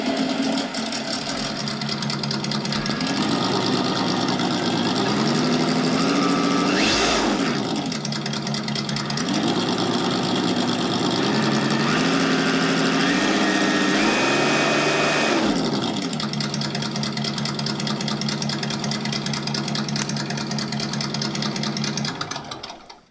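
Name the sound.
Traxxas TRX-4 ESS simulated engine sound from sound system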